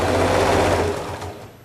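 A sewing machine runs close and loud, stitching a quilt binding seam in one rapid continuous burst that slows and fades toward the end.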